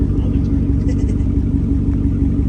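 A car engine with an X-pipe and no muffler rumbles loud and low close by, a throaty, uneven exhaust drone that fills the short stretch.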